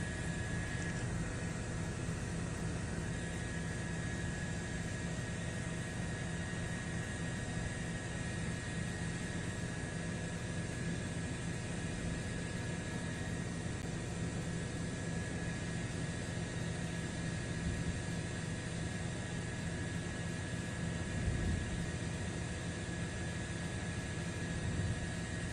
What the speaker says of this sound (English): So as we can see, the plane on the tarmac.